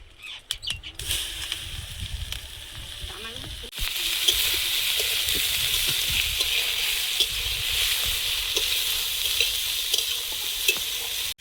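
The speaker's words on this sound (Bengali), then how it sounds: "উচ্ছে আলুটা ভাজা বসিয়ে দেবো" Bitter gourd and potato frying in a pan in a Bengali home kitchen: a brief clatter and stirring, then a loud, steady sizzle from the hot oil that holds to the end.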